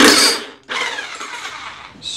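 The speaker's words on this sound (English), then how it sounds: "there is a 15/16 nut that has to come off. So I just like to use my impact with" Impact wrench with a 15/16 socket spinning off the top nut of a lawnmower that won't start, a loud close mechanical whir in two bursts with a brief pause between.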